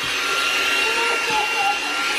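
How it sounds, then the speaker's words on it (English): A household vacuum cleaner runs with a steady, loud, unbroken whine and airy hiss throughout, close by, with no pauses. "I need to do a quick little cleanup too with the vacuum over here."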